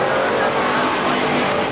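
Race cars at a 1995 IMCA dirt oval track event: a loud, steady engine roar from cars racing close by, sustained through the whole short stretch without a break.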